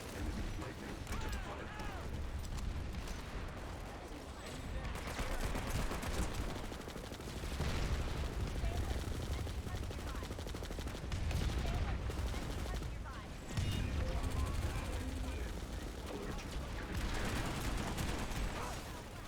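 Shotgun blasts in a video game firefight burst out repeatedly in heavy, booming volleys over a dense background of battle noise. A player talks now and then between the shots.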